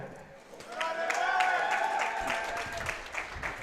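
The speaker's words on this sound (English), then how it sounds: "you can hear by the crowd in the background" A bowling tournament crowd applauds a strike at the finals, scattered clapping and cheering in a large hall, moderately distant and mixed under a commentator's speech.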